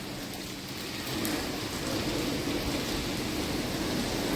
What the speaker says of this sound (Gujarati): પણ વરસાદ આવે છે ને